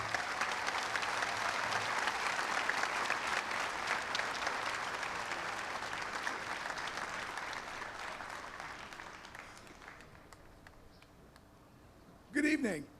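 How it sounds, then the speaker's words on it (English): A crowd at a high school graduation claps loudly to welcome a speaker, the applause sustained for about ten seconds and then gradually thinning and fading, followed by a brief loud sound near the end. "Please help me give a huge round of applause"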